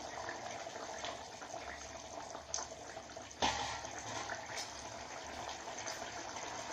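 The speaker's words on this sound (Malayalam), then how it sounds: "നമ്മുടെ മീൻ നന്നായി തിളക്കുകയാണ്" Kerala fish curry (meen mulakittathu) bubbling steadily in a pan, a continuous hiss and simmer with a brief clank of a lid or utensil midway, close and moderately loud.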